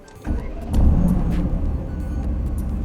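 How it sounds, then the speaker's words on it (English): Mercedes-AMG GT C coupe, 2017, with a 4-litre twin-turbo V8, idling with a steady low throb heard from inside the cabin, rising a little after a moment and then holding even. "So we can hear it throbbing away."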